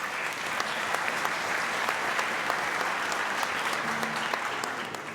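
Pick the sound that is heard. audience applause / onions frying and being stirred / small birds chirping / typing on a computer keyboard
audience applause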